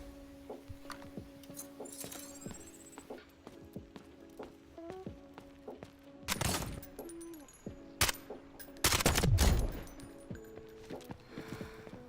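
Gunfire in the Delta Force video game, a few loud bursts of shots with clinking metallic clatter, set against steady game ambience and tonal hums.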